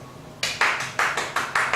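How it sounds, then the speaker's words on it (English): Six crisp, evenly spaced hand claps ring out close and loud in a brisk, steady rhythm, demonstrating good clapping at a youth leadership graduation, with no voices heard. "Adrian, can you show us good clapping?"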